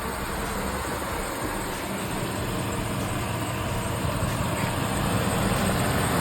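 A 2002 Ram 1500 pickup with a swapped-in 4.7 engine runs steadily in a garage, producing a constant broadband rumble with no clear revs or pauses.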